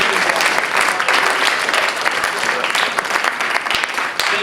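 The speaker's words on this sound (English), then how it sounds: "Let's give him a good round of applause." An audience at a magic and mentalism show claps in a dense, sustained round of applause for about four seconds, loud and close, with a few voices mixed into the crowd.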